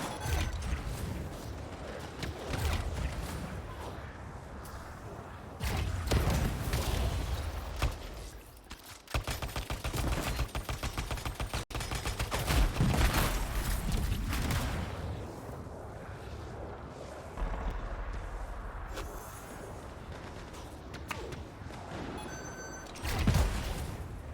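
Heavy gunfire and booming blasts from a PS4 game hammer away at turrets in repeated loud bursts, with mechanical clanks and explosive thuds spread across a long, chaotic stretch of combat.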